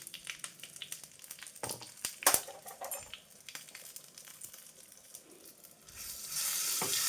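Asafoetida powder dropped into hot oil with curry leaves for sambar rice, giving a soft crackling sizzle with light stirring and scraping, rising into a steady louder hiss near the end.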